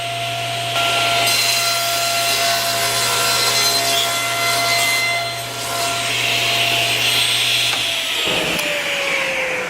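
A saw cutting through wood to make a final trimming cut, a loud, continuous harsh rasping drone lasting several seconds before stopping abruptly near the end, close up with no voices.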